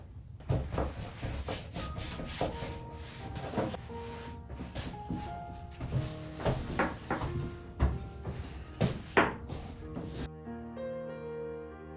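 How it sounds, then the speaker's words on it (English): Wet white wax being buffed onto a painted Christmas nativity for a French country finish, giving repeated soft rubbing and brushing strokes with occasional wooden knocks, fairly close, with a short musical tone at the end. "we're almost essentially wet distressing it by buffing it while it's still wet"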